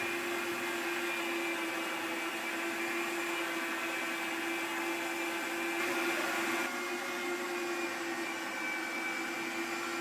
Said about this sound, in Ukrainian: пропускаємо помідорки, моркова, часник і перець через м'ясорубку